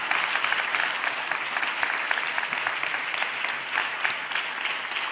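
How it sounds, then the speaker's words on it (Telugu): A church congregation applauds during a sermon, with dense, sustained clapping from many hands that fills the whole stretch evenly, loud and close. "బిడ్డలు చప్పట్లు కొడితే యేసయ్యకు స్తోత్రాలు చెప్దాం"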